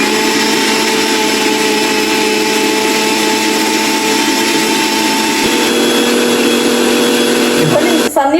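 A kitchen mixer grinder churning cream to make homemade ghee, a loud steady whirring motor that runs continuously and stops abruptly near the end.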